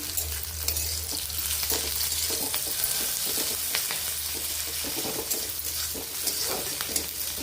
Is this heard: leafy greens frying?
yes